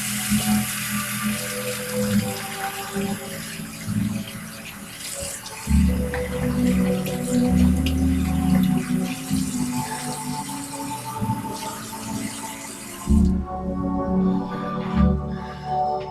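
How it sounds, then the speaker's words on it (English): Hands being washed under a running kitchen tap, a steady splashing water stream with some sink clatter, continuous and fairly close, briefly stopping near the end before running again. "I'm going to give my hands a quick wash again."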